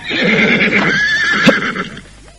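A horse gives a loud, close whinny lasting about two seconds, its shrill neigh wavering and then trailing off, heard alone with a brief thump midway.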